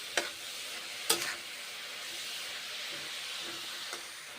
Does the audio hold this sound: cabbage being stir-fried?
yes